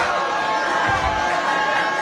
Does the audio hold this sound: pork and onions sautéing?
no